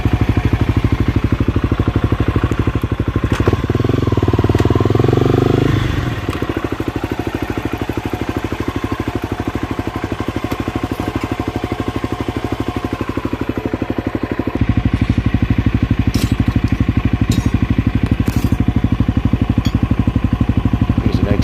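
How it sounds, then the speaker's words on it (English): An antique state police motorcycle runs nearby with a loud, rough, chugging engine, briefly rising in pitch as it pulls away, then continuing as a steady rumble at an antique motorcycle meet. "State police bike."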